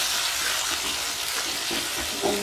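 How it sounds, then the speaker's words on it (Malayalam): Onion and tomato sauté in a pan for Kerala-style chicken thoran, giving a steady, even sizzle that holds throughout with faint stirring underneath. "സവാളയും കൂടെ ഇട്ട് വഴറ്റിയെടുക്കുക. വരുമ്പോൾ ഇതിലേക്ക് കുറച്ച് എടുത്ത് വെച്ചിരുന്ന തക്കാളി ചേർത്തിട്ട്"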